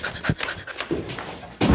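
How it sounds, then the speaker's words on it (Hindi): A dog pants in quick, breathy bursts close by while being offered water to drink, the rapid huffs rising and falling over a couple of seconds. "ले साहब पानी पियावा अपने कुत्ता के। ले पी ले पानी।"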